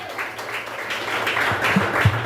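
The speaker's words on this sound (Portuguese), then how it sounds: "Palmas e glória a Deus." Church congregation applauding during a Portuguese-language worship service, a steady wash of clapping from many hands filling the room, with a faint voice briefly under it.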